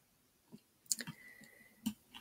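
A single computer mouse click sounds while editing image levels, a brief close click amid faint scattered desk ticks, quiet and without talk.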